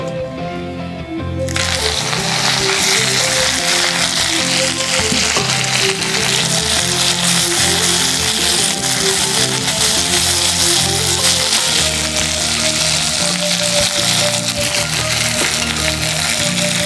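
Fresh mint leaves sizzle and crackle in hot oil in a pan, starting suddenly after a quiet moment and then frying loudly and steadily, with occasional stirring scrapes and no talk.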